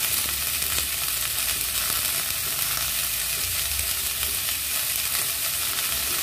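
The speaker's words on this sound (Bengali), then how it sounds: "পরিমাণ মতো লবণ হলুদ দিয়ে একটু নাড়াচাড়া করে ঢাকা দিয়ে দেবো।" Kakrol (spiny gourd) frying in a pan with salt and turmeric, stirred now and then, giving a steady, dense, close sizzle that holds evenly throughout with no voices.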